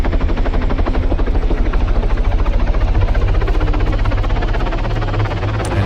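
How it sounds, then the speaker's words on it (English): Several military helicopters in Arma 3 start up and lift off together, a loud, steady, close rotor chop with rapid rhythmic thumping and engine drone, no talking. "all the choppers will now start up, take off, probably pretty much at exactly the same time"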